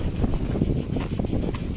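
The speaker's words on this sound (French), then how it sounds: "T'as du vent!" Steady wind buffeting an outdoor microphone, a continuous rumbling roar with no pauses, loud and close throughout.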